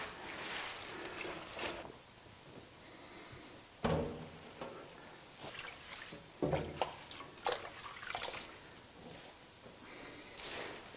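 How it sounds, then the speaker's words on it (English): Water runs and splashes into a kitchen sink being filled to wash parsley and kale, quiet and intermittent, with a few sharp knocks and clatters between the trickling bursts. "I'll fill the sink"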